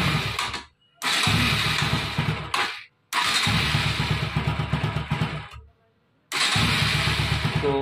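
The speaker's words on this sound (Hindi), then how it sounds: "तो फ्रेंड्स, गाड़ी तो मेरा स्टार्ट हो जा रहा" A Bajaj Pulsar NS 200 motorcycle with a CDI problem cranks and fires up several times, each start breaking into a loud, steady engine run between short silent pauses.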